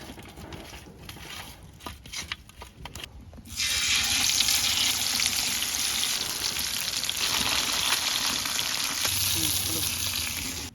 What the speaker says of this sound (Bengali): মাছটা তেলে ভাজার লাগিয়ে এখন হলুদ আর লবণ দিয়ে মাহাই লমু